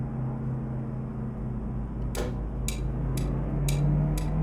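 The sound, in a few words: turn signal ticking in a sports car, from a driving video game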